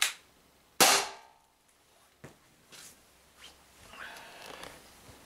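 An Umarex HDR50 air pistol fires a polyester slug in a single loud, sharp crack up close, followed by faint clicks and handling noises.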